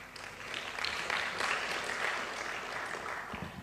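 An audience at a large event with a big screen claps in steady, continuous applause, moderately loud, with no talking over it.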